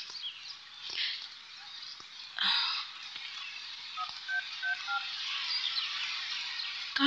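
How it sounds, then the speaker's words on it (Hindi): A telephone is dialed in a short run of electronic keypad tones, clear but fairly quiet, with no talking. "फोन लगाती हूँ।"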